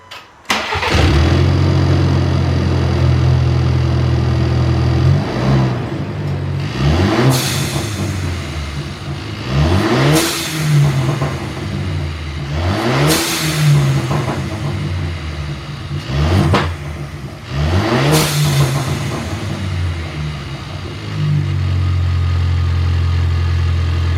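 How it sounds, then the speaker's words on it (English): A 2020 Ford Ranger turbo engine with a new blow-off valve starts up and settles into idle, then gets about five sharp revs spaced a few seconds apart, each dropping back to a steady idle, loud and close. "I'm going to start it up and I'll give it a few revs and see how it sounds"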